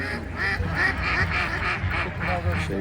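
Ducks quack repeatedly at close range in a rapid, irregular series of nasal calls, loud and busy, with people's voices mixed underneath.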